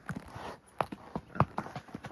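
Shod horse hooves walking along a snowy Colorado trail, a steady rhythmic clip-clop of several distinct thuds, close and moderately loud with no talking.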